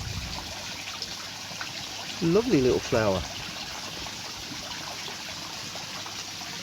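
A steady rush of running water from a small stream or waterfall fills the background, while someone speaks briefly over it.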